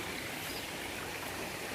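The Ulakkai waterfall stream in Kanyakumari rushes in a steady, dense hiss of flowing water, close and continuous with no break or voices.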